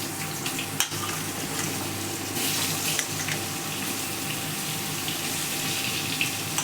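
Potato pieces frying in hot oil just after a cumin tempering, in a home kitchen where fish was fried first; a steady, close hiss and sizzle runs unbroken throughout with no talking.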